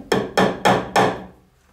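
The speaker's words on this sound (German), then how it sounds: "Als erstes nehmen wir den Hammer und schlagen diese 4 Nägel ins Brett." Four sharp hammer blows strike nails into a wooden board, evenly spaced and close, each ringing out briefly before fading into quiet.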